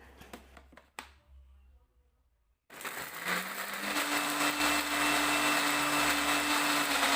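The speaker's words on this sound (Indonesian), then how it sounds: "Selanjutnya bumbunya di blender hingga halus." A kitchen blender grinds spice paste for a chicken dish, starting abruptly after a quiet moment and running loud and steady with a sustained whirring motor hum and gritty churning that holds to the end.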